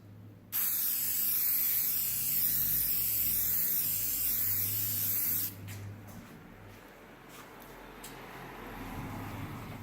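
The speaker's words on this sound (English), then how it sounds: "Let's do a test spray. Alright, so I'm going to do a good pass like this." Spray paint hissing from an aerosol can in a test pass onto a custom watch case back, one steady close hiss of about five seconds that cuts off abruptly, followed by quiet handling noises.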